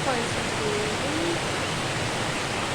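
A single waterfall on a holiday trip gives a constant, hissing roar of pouring water, loud and unbroken from start to finish, with a faint voice briefly audible beneath it early on.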